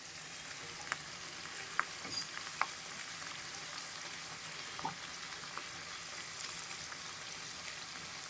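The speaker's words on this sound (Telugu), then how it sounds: "జీలకర్ర ఇంకా ఆవాలు చిటపట్లు ఆడాలన్నమాట." Garlic, cumin and mustard seeds frying in hot oil for a mango pickle tempering, a steady close sizzle with scattered sharp pops and crackles, no voices.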